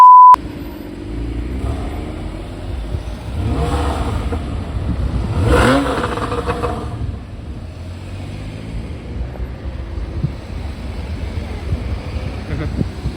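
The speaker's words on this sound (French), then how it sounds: "Les petits coups de gaz là." A car's engine on a street in Le Havre, blipping the throttle with short revs that swell and fade, mid-distance over a steady rumble of traffic and wind noise.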